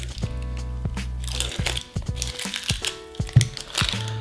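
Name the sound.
peeling the first layer off an onion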